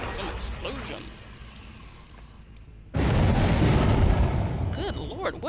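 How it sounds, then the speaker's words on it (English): Explosions in the video game Dead by Daylight go off as a loud, sustained rumbling blast that erupts suddenly midway and keeps booming, after quieter game noise with scattered effects. "Some explosions."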